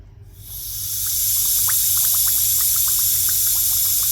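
Coolant hisses steadily from a leaking EGR cooler on a Toyota 2.8 1GD diesel under air pressure, a loud continuous rush with small bubbling pops scattered through it, building up in the first half second and then holding.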